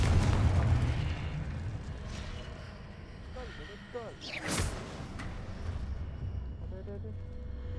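Confringo blasting spell in Hogwarts Legacy, with a booming fiery burst rising out of ongoing game effects and rumble, loud and close amid busy background noise.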